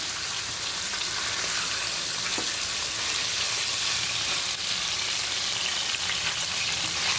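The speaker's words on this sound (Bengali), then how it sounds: "মাছগুলো আমরা হালকা করে আস্তে আস্তে ভেজে নেব সময় নিয়ে" Pieces of catla fish fry gently in hot oil, making a loud, dense, continuous crackling sizzle that holds steady for several seconds, close by and with no voices over it.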